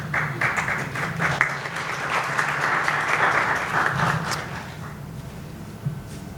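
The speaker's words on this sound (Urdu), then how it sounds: "اگر تالیاں مارنیاں نے تو اچھے طریقے نہ مارنیاں نے" People clap at a public assembly at the Lahore Press Club, a loud burst of crowd applause that holds for several seconds and then dies away, leaving a quieter room with a few stray sounds.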